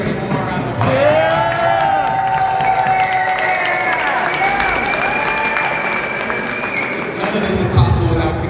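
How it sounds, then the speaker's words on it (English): Rally crowd outside the capitol in Springfield, Illinois, applauding and cheering loudly, with whoops and voices rising over sustained clapping that fades near the end. "Everybody, one more round of applause."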